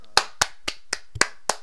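Six sharp hand claps ring out alone at an uneven pace, close and fairly loud, each a crisp snap with a short fade, more like a sparse few claps than a full crowd's applause.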